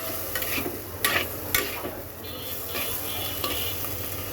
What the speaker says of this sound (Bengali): তো চলো এটাকে এখন সুন্দর করে ভেজে নেই